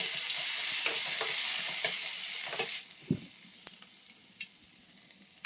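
Garlic paste fries in a pan with a loud, close sizzle that drops sharply partway through to a quieter hiss dotted with small pops and clicks.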